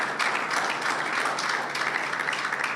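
A church congregation applauds during a sermon, steady, full clapping from many hands that carries evenly through the hall.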